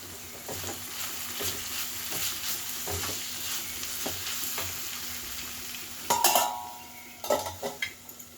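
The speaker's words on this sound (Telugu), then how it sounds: "మళ్ళీ ఒకసారి అంతా కలిపేసి" A spoon stirs ivy gourd curry with added spices in a frying pan. Soft scraping and tapping strokes sit over a steady low sizzle, with a few sharper clinks of metal toward the end and no talking.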